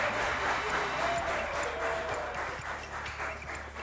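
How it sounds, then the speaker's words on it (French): Sustained applause from a studio audience for a contestant at the end of a round on a French game show, a dense steady wash of clapping with faint tonal chimes over it. "Merci de l'applaudir encore."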